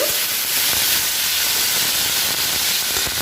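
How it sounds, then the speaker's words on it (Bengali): Potatoes seasoned with salt and turmeric frying in a wok, giving a loud, even, close hiss of sizzling oil that holds steady without a break. "আমি কড়াইতে দিয়ে দিব। আলুতে দিয়ে দিব লবণ, হলুদ। আলুটাকে প্রথমে ফ্রাই করে নেব।"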